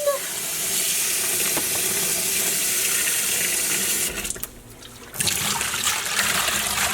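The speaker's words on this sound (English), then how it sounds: "I'm actually rinsing it off of the outside of the bottle" Running water rinses dye and soap suds off the outside of a bottle during yarn kettle dyeing, a steady close faucet stream that briefly drops away near the end before resuming.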